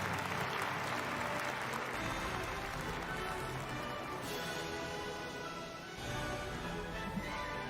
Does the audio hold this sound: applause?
yes